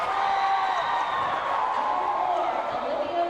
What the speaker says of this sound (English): South Medford crowd is letting it go right now